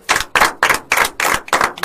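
Children clap together in short, evenly spaced bursts, about six sharp, loud rounds in quick rhythm, close by, with no talking.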